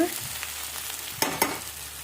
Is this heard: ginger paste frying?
yes